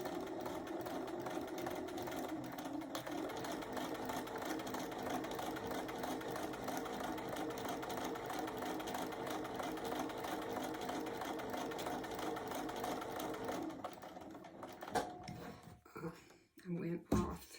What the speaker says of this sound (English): put it under, and you're ready to sew.